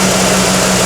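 Warmed-up IROC-Z engine idling, a loud steady droning rumble with an even tone and no pauses, heard close up and alone.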